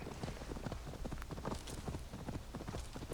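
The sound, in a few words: horse hooves clip-clopping, video game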